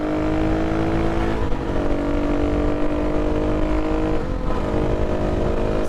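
A KTM 350 motorcycle fitted with test sprockets accelerates up to speed, its engine a loud, steady close drone with rising pitch and two brief dips where it shifts gears, running continuously throughout.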